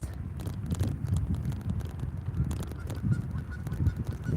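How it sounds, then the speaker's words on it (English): Canada geese honk repeatedly at a lake, a cluster of nasal calls at moderate distance over gusty wind noise, with no talking. "There's the Canadian geese."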